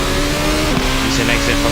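A race car engine in a racing video game revs under steady commentary through a corner onto the back straight at the SUGO circuit. The engine drone is loud and continuous beneath the speech.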